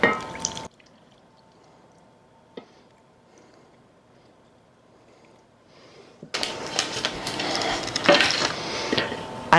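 Hot water is poured over dry ingredients in a home kitchen, a loud rushing, splashing pour that starts after a long near-silent stretch with a brief clink.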